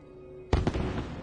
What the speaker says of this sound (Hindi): धूम धड़ाका, छोड़ो पटाखा.